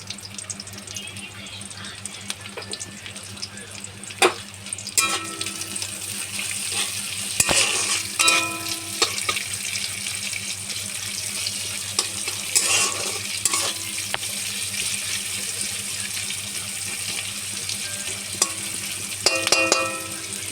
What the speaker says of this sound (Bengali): পেঁয়াজটা একটু হালকা করে ভাজবো, বেশি লাল লাল করে ভাজবো না